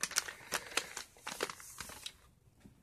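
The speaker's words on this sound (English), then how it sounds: "Comes this handy dandy plastic bag." Plastic crinkles and rustles close up in a quick series of sharp crackles, then quiets near the end.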